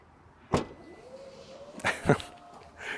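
A Kia Telluride's smart power liftgate gives a few short electronic beeps, one near the start and a cluster near the end, with a faint motor whir between them, no voices.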